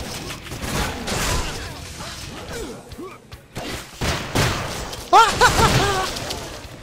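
Railgun shots in the shooter game Painkiller: Hell and Damnation, a few heavy booming blasts with sharp bursts, mixed with game effects and someone talking over them.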